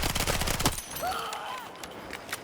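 Rapid bursts of MP7 submachine gun fire in Battlefield 6 rattle loud and close for under a second, then give way to distant battle noise with faint scattered shots and a brief whistle.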